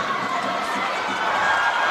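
Arena crowd at a women's university hockey semifinal, Trinity Western Spartans versus UBC, a steady swelling roar of many voices filling the rink, loud and continuous with a slight rise toward the end.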